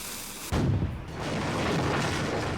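A cannon fires in the video game Nancy Drew: Last Train to Blue Moon Canyon, one sudden loud boom followed by a long rumbling roar that carries on without voices.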